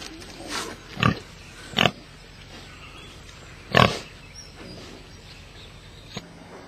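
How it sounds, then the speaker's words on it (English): Pig grunting and oinking in several short, loud bursts spaced a second or two apart, close by in a quiet indoor room. "Louder, pig."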